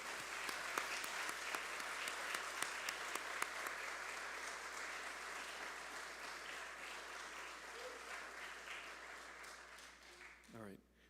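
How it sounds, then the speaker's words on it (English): Audience at an Eagle Scout ceremony claps steadily, a full room of applause with a few sharp individual claps, gradually thinning out toward the end. "And because applause is good, Eagle Scout Christian Mullins."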